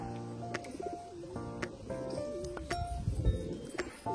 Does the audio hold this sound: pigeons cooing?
yes